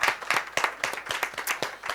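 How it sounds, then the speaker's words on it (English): Sparse clapping from a small audience at a corporate talk, a few hands beating in quick irregular bursts, fairly close and clear. "A warm applause for Dr. Jamin as well as Fatsani"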